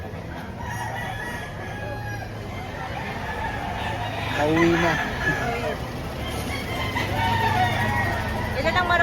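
Roosters crow repeatedly amid the bustle of a Saturday chicken market in Lipa, Batangas, with overlapping calls rising and falling over steady crowd noise, while nearby voices talk throughout.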